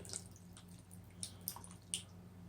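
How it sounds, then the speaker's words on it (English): Chunky salsa glops and drips into a crock pot of beanless chorizo chili in a home kitchen, a few soft wet plops and squishes, faint and close, with quiet pauses between. "Now we're going to pour in some of the salsa."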